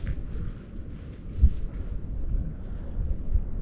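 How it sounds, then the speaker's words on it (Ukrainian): Low, rumbling wind buffets the microphone continuously on a cold winter shore during feeder fishing, with gusty swells and occasional thumps. "Дуже вітряно, холодно."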